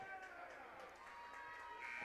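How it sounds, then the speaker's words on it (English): Game-ending buzzer at a girls' high school basketball game between Riverton and Rock Springs, a steady electronic tone sounding through gym noise for about two seconds. "And there's the buzzer. That's the game."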